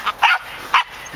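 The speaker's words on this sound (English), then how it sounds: "Dogs are going berserk." Dogs, including a Chihuahua, barking at a squirrel up a tree: three short, sharp yips and barks in quick succession, close and loud.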